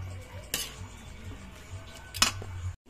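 Utensil stirring ginisang chop suey vegetables with longganisa in a pan, two sharp scraping clinks against the pan about a second and a half apart over a low steady hum, no talking.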